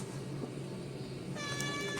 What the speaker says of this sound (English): I think the cat wants to be in the video.